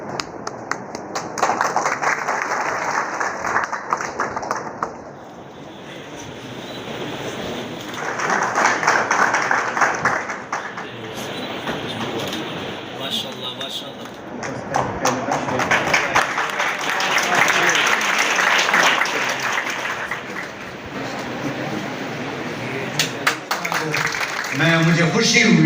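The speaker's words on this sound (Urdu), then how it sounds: "یہ ایک نعمت سے انکریج کرنے کے لیے تالیاں ان کے لیے" A crowd at an annual examination ceremony of an IT institute applauds in waves of steady clapping, swelling and fading over roughly twenty-five seconds, with some voices mixed underneath.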